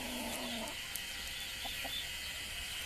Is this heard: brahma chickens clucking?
yes